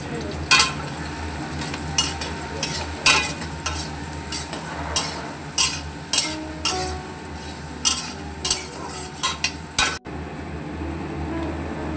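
Chopped onions, about 250 g, fry in hot fat for a Bengali mutton curry, a steady close sizzle broken by repeated sharp clanks of a spoon stirring the pan.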